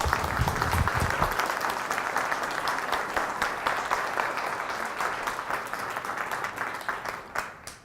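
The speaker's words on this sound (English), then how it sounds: "Please help me welcome him with a round of applause" An audience at a museum talk gives a sustained round of applause, dense at first and slowly thinning toward the end, with no voices over it.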